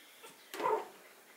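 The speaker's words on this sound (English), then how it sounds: "They growl so hard they fall over." Three-week-old puppies growl in a whelping box, one short near rough burst after a faint earlier yip, with a soft room background.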